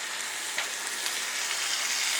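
Partly frozen homemade turkey burgers fry slowly in a pan, giving a steady, close hiss with a few soft pops and no talking.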